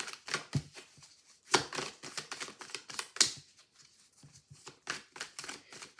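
Tarot cards are shuffled in quick, soft riffles and taps, with irregular crisp bursts close by at low volume.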